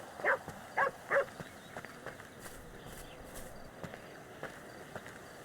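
Dog in the video game Grand Theft Auto V barks three sharp times in quick succession, then falls quiet under faint background sounds and light footsteps.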